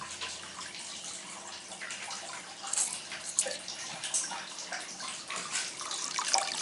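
Water from an inlet pump splashing into a tank or bucket as it fills, a continuous bright splashing rush that swells and gurgles irregularly, close by, with no talking.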